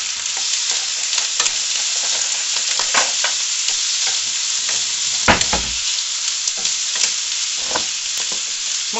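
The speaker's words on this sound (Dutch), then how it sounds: "Kijk, je hoort hem al lekker sudderen." Nasi with egg and a little ketchup sizzles steadily in a pan while being stirred, a dense close frying hiss with repeated scraping clicks of the utensil throughout, no talking.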